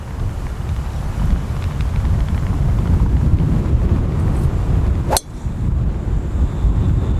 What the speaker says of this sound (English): So windy here, guys.